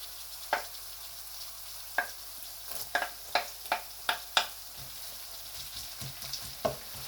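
Garlic frying in a hot pan over raised heat, with a steady soft sizzle and a series of sharp metallic clacks from a spatula striking the pan at irregular intervals, close and clear with no talk.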